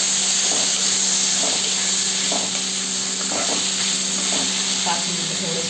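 Tomatoes frying in a pan for chole masala give a steady, close hiss and sizzle that runs the whole time, with faint soft pops now and then.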